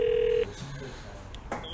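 A telephone call being placed: a short steady dialing tone sounds briefly at the start, then cuts off into faint room noise and a soft click.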